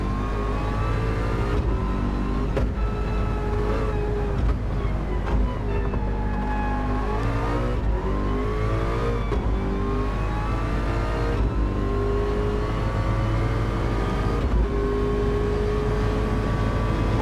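Ford GT race car engine in Gran Turismo 7 at Bathurst, a steady loud drone with repeated short-shifted gear changes that drop the pitch, then climb again in smooth rising sweeps.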